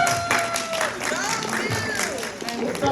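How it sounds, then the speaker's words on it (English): A convention panel audience claps and cheers at the close of an anime talk, a steady wash of applause mixed with crowd voices and whoops throughout. "give yourselves a round of applause for being here."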